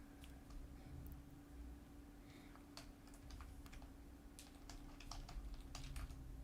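Steady keystrokes on a computer keyboard while someone works on an app launcher, sounding as irregular clicking bursts that grow busier toward the end, close up over a constant low electrical hum with no talk.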